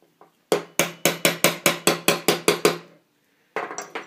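Sharp metallic hammer taps reseating a pin in an AR-15 bolt carrier group, about a dozen quick evenly spaced strikes close up, a pause, then a few softer taps.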